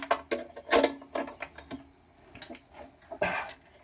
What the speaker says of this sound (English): I would take my wrench here and re-loosen it again.